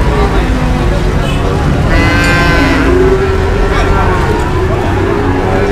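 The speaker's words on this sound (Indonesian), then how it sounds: "Ini adalah proses penurunan sapi." Cattle, including calves and breeding cows, bawl and moo loudly while being unloaded from a reversing pickup truck at a cattle market in Nganjuk, East Java, over constant crowd chatter and market noise.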